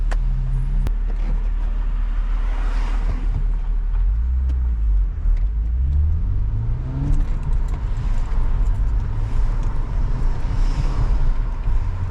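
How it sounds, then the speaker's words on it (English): Manual-transmission Acura TL driving along, a steady engine and road rumble with revs rising and dropping through relaxed gear shifts, plus brief small jangles near the start. "This particular car, the Acura TL, enjoys lazy shifts."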